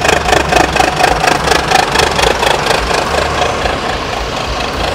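Adhi Prima sleeper bus engine on the Palembang–Jakarta route, heard close and loud with its exhaust: a throbbing, knocking idle in a fast regular pulse that eases and smooths slightly toward the end.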